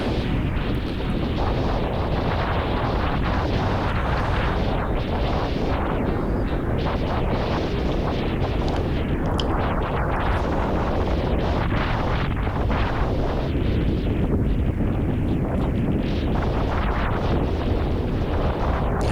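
Gusty wind while kitesurfing near a jetty at Fort Pierce, Florida, a loud constant roar of wind buffeting the microphone with surging rumbles throughout, no talking.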